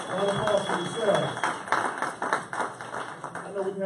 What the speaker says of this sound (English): So give a round of applause, please.